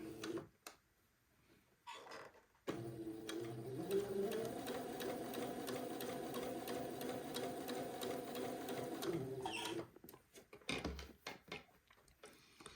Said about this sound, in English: I'm going to begin to very carefully sew right next to the edge of that first seam